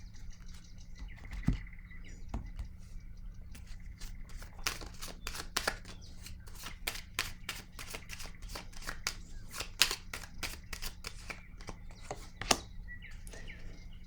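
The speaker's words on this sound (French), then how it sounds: "Je vais déposer une autre carte ici." Cards laid down and handled on a table during a French card reading, a quiet series of soft taps, slaps and shuffling rustles heard close with no speech.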